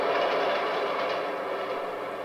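A subway train in the 1973 film The Exorcist rumbles past with a steady, loud roar and faint rhythmic rattle, continuous throughout without voices.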